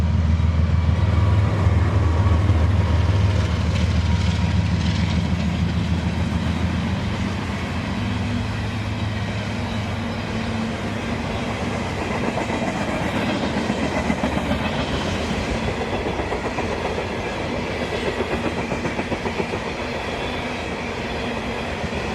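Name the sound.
Juice Train freight train passing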